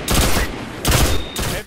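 The Red Death pulse rifle in Destiny: The Taken King fires three loud, crisp bursts of rapid shots, each cluster ringing briefly before the next.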